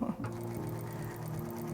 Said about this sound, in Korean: 요즘에 좋은 재봉틀은 이렇게 자동으로 시작을 만들어줘요